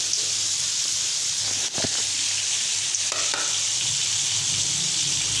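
Chopped onion sizzles in hot oil with cumin, bay leaf and dried chilli, a steady close hiss broken by a couple of sharp stirring clatters.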